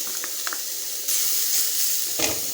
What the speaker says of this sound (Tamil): கொஞ்சம் நல்லா நெய்யிலே வதக்கலாம்